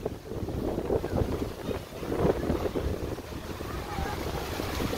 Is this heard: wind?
yes